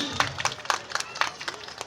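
Audience applause at a Holi Milan celebration gathering in Mirzapur: scattered, fairly close hand claps rising and falling under someone speaking over a microphone.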